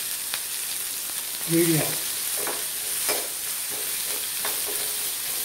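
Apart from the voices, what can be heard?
roasting tamarind and adamant creeper in a pan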